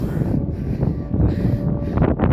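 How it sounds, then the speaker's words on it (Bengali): Strong gusty wind buffets the microphone on a high, exposed viewpoint near Medina overlooking the Safa mosque, a steady roar that swells and surges in bursts throughout. "প্রচুর বাতাস"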